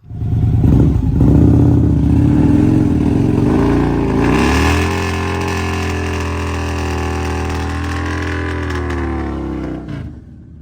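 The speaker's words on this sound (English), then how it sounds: "I'll post a video of him doing a burnout here" A Harley-Davidson Road Glide bagger motorcycle roars loudly in a sustained burnout, its engine held at high revs, then settling to a steady lower drone before cutting off abruptly near the end.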